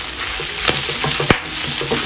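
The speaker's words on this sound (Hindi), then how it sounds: "देखिए चप चढ़ के आवाज़ आ रही है, क्योंकि ये अच्छे से ये भून गया है ना" Goat stomach and liver frying in a pan with chopped tomatoes and green chilies, giving a steady close sizzle broken by a few sharper crackles and pops, with no talk.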